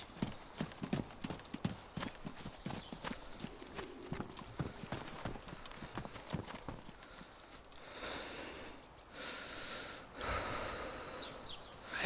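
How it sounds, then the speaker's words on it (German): A character snorts and pants heavily in the survival video game DayZ, with close, rhythmic breathy bursts repeating over several seconds, later giving way to softer rustling noise. "Wir haben Schnaufen hier, ne?"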